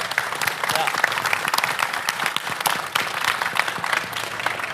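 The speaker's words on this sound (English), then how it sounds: "the exhibitors that are here deserve a big round of applause for supporting this" A Macworld audience gives exhibitors a dense, continuous round of applause that fills the whole stretch at an even, lively intensity.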